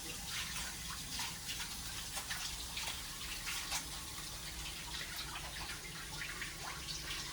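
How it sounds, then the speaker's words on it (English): Running water from a tap splashes steadily as dough is rinsed off hands while bread is being made, a continuous close gush with no talking. "I gotta wash my hands or there's gonna be dough all over the outside of it."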